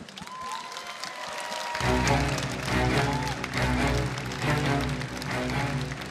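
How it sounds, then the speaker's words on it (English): Audience at the Mrs Earth 2015 beauty pageant breaks into applause after a quiet moment, a sustained wash of clapping from a large crowd in a hall. "Ladies and gentlemen, a round of applause as well."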